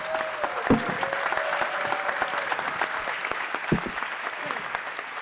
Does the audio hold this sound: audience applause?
yes